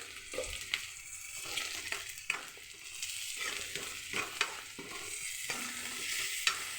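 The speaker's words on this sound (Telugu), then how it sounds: "ఇలా పచ్చిమిర్చి కూడా కొంచెం ఆయిల్లో ఫ్రై అయిపోవాలి" Green chilies fry in a little oil for a carrot stir-fry, with a soft, steady sizzle broken by regular scraping strokes of a spatula, fairly faint and close.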